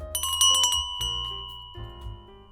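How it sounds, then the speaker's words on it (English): A small bell above a shop door jingles with a quick cluster of bright metallic strikes, then rings on with a clear lingering tone that fades slowly; no voices. "the bell above the shop door jingled"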